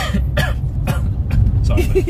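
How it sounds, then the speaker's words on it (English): A series of short, rough coughs and throat-clearing bursts, close to the microphone, over a low background rumble. "Oh, sorry, I got a cough."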